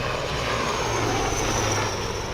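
Prachand light combat helicopter, an Indian-made military aircraft, roars loudly and steadily at an induction ceremony, with a continuous engine and rotor drone and no voices.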